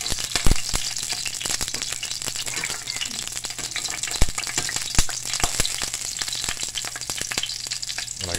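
Brown anoles, unbreaded, frying in olive oil, a busy crackling sizzle with frequent sharp pops and spatters, close and steady without talk.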